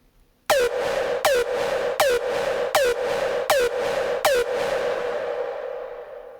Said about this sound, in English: Now a bit of distortion again to make the tail more crunchy.